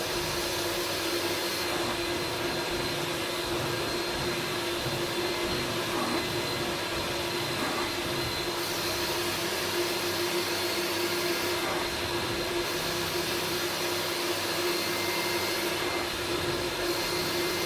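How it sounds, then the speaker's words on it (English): Carpet extraction cleaning machine running continuously with a loud, steady suction roar and constant whine, with small shifts in tone as it passes over the carpet, no talking. "it improves the airflow, so we can get across the carpet easier, but also extract more dirt from the carpet as we go."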